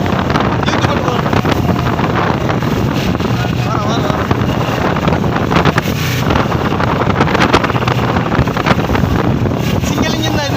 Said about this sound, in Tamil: சிங்கிள் இன்ஜின் தான் இது. எப்படி வருது பாரு போட்டு, ஒரே இன்ஜினு.